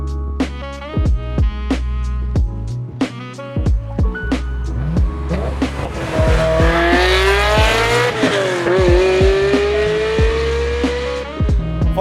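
Ferrari F355 manual sports car driving, engine revving in sharp bursts and then building to a sustained rising howl, loud and close with rhythmic gearshift pulses.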